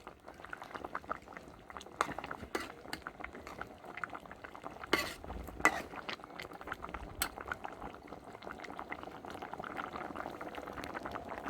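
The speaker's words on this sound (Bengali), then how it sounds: "জিরে সর্ষে বাটা দিয়ে একটু ফোটাবো" A pot of vegetable curry with cumin-mustard paste simmers and bubbles steadily, with a soft continuous burble and occasional louder pops and splutters close by, no voices.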